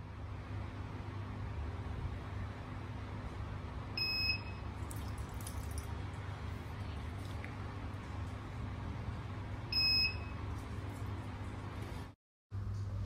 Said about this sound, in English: the soap will come out and the buzzer will switch on